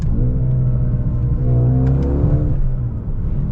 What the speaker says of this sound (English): it makes bops out the back end in normal AMG fashion